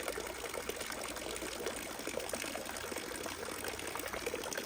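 Fresh water pours steadily into an alligator enclosure, a continuous soft splashing trickle, fairly faint and with no voices over it.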